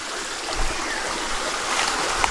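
Rushing water from a waterfall in the Philippines, a steady broadband roar and splash that holds at an even, fairly loud level throughout with no voices.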